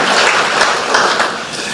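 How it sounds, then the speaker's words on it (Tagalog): A church congregation claps hands in praise, a loud, dense wash of many hands filling a large room, steady throughout with a few faint voices underneath. "Come on, clap your hands."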